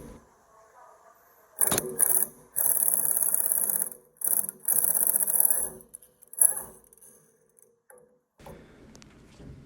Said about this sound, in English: using my impact gun.